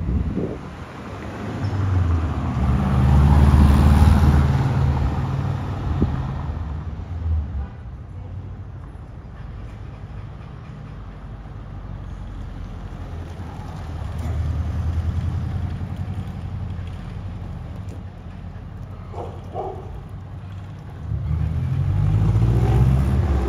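A 1999 VW Sedan engine hums while driving, swelling with acceleration at the start and near the end, under wind noise with no speech.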